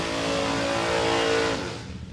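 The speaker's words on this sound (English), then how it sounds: "that nitro warming up down there" A nitro drag racing car engine warming up at Warwick Dragway in Australia holds a loud, steady tonal roar, then eases off and fades near the end, with no talk.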